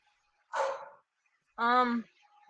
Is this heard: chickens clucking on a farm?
no